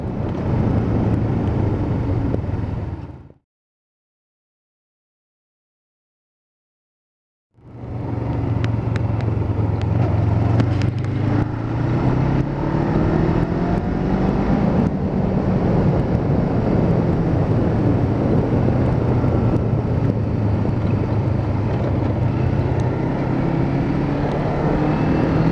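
Kawasaki Ninja 500R motorcycle on a highway, its engine droning loud and steady with rising pitch as it accelerates through the gears, constant wind roar over it, after a brief cut of silence near the start.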